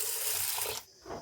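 Water is poured into a pressure cooker holding washed toor dal (pigeon pea lentils) for bottle gourd sambar: a close, steady rushing pour for under a second, then a short splash as it stops.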